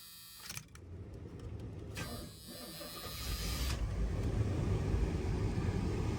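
A flooded 1985 Chevy camper van cranks briefly, then its engine fires and settles into a low, rumbling idle that grows steadier, heard close and moderately quiet.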